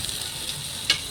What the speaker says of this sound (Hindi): प्याज डाल दी इसमें मैंने